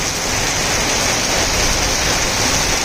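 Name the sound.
heavy rain on the Udgir–Deglur road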